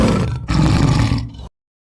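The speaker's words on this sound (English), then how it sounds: "Tiger." A tiger's loud, rough roar in two close bursts separated by a brief pause, heavy and guttural, ending abruptly.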